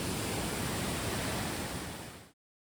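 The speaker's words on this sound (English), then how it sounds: "This is actually the top of the waterfall, Janet's Foss. So you can see it just plunging over, right over the top here." Janet's Foss waterfall plunges over its top edge in a loud, continuous rushing roar of water that stops abruptly.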